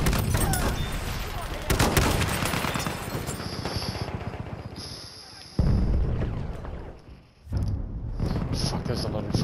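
Dense gunfire and rattling machine gun bursts in a Battlefield 1 battle at Passchendaele, loud and chaotic with heavy low thumps, punctuated by brief lulls and high-pitched game tones.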